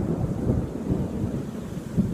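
Rain falling steadily on Savoca, Sicily, a continuous dense outdoor wash of noise with low rumbling weight, heard alone without voices.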